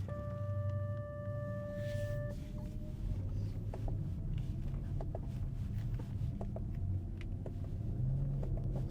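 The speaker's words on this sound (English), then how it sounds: "I'm gonna turn on now this VGS, which simulates shifting" 2024 Genesis GV60 electric car driving with its simulated gear-shifting sound switched on, producing a steady synthetic engine-like rumble with occasional brief clicks and chirps, after a short electronic tone at the start.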